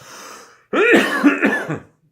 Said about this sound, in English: my son's got the flu again, or is coughing